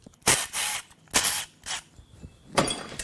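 Bolts come out of a Nissan VQ35HR engine during teardown, heard as several close, sharp bursts of tool noise, sounding like a ratcheting or impact tool, separated by short pauses.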